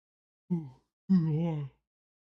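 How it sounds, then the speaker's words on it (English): A voiced yawn into a microphone during a Steelers–Ravens game livestream, a short opening groan followed by a longer drawn-out yawning exhale, close and fairly loud with no speech. "Had to yawn"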